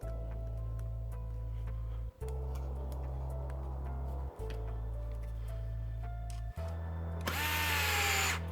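A power drill whirs in steady bursts while driving a screw partway into an XT8 rear differential case, briefly stopping between runs, followed by a loud harsh whirring surge near the end.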